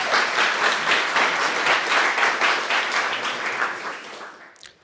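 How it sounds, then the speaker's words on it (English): Sustained applause from a large crowd at a university startup pitch night, dense and steady, fading out at the end. "Can we have another round of applause for that video"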